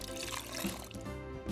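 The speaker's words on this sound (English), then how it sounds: "We'll add about half a glass of water," Half a glass of water is poured into a flour well for pasta dough, giving a soft, steady trickle over a continuous tonal background.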